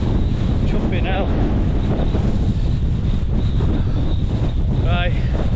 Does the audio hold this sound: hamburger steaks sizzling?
no